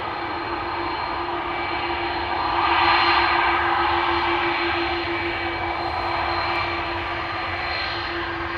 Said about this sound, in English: Loud engines.